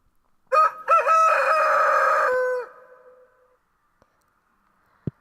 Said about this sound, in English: And we've got that really nice cockerel to wake us up